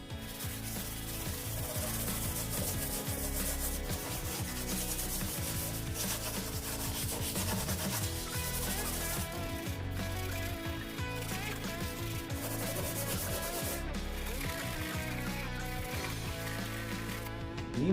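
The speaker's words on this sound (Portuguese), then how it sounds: "Vamos lixar." Continuous scratchy rubbing of hand sanding a fiberglass mold, steady and close, with rhythmic back-and-forth strokes running throughout without pause.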